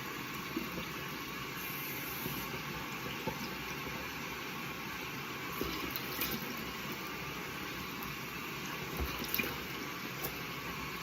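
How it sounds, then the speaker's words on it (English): Running tap water flows steadily into a sink while someone rinses off after shaving, a continuous, moderately close splashing hiss with small drips and no talking. "I'm going to rinse off a little."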